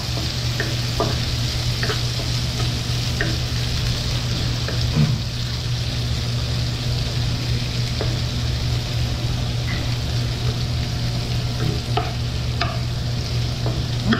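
Onion and chili fry in a pan outdoors beside a forest stream, giving a steady dense sizzle over a low hum, with occasional light clicks of stirring.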